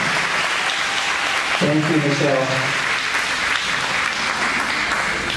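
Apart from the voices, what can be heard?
audience applause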